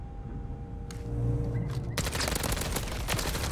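Rapid gunfire in a competitive first-person shooter match, loud dense bursts of shots packed together in the second half after a quieter stretch with a sustained tone.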